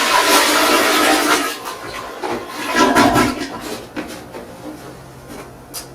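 A toilet flushed by pouring water in from a jug during a water outage: a loud rushing gush that swirls and gurgles down over several seconds, then fades into trailing drips and trickles.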